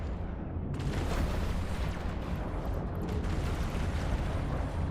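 Explosions in the space game EVE Online, a dense continuous rumble of booms and bursts filling several seconds, loud and unbroken with no talk.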